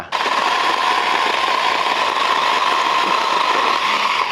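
A cordless IMAX IMPS-003GT pole saw runs steadily and loudly without pause while cutting a branch in an orchard, its high buzzing whine holding a constant pitch throughout.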